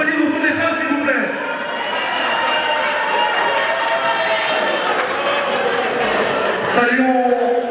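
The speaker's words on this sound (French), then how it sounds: "On applaudit pour toutes les femmes, s'il vous plaît." An audience in a hall at an evening event applauds the women present: a sustained wash of clapping and crowd noise that rises after a voice and fades as he speaks again.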